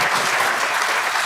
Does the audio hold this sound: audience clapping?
yes